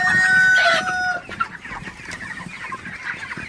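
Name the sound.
broiler chickens clucking in a farm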